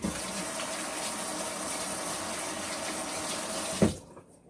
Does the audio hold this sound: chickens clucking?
no